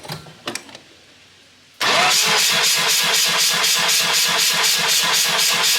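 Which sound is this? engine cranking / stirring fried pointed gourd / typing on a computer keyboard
engine cranking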